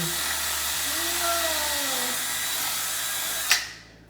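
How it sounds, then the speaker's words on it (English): A steady electric drill whines loudly, its pitch sliding as it bores through a hard coconut shell, then cuts off abruptly with a sharp knock at the end. "A coconut drill."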